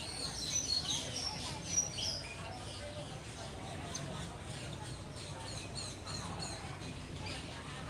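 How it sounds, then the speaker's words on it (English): A loud bird calls from the middle of a path in the Disney's Animal Kingdom aviary, giving sharp high chirps that rise over steady background crowd noise and a low hum. "Very loud bird. That is the bird, by the way."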